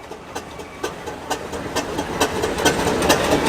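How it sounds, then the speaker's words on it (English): Vintage Fowler road roller engine running at a yesteryear rally, a steady mechanical chugging with regular rhythmic knocks that grows slightly louder, heard outdoors with no talk. "This is a Fowler engine,"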